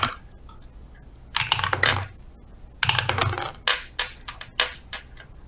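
Dice tumble and clatter in several short bursts on a hard surface, with sharp rattles in two longer rolls and a few quicker follow-up clicks, fairly close and with no talking.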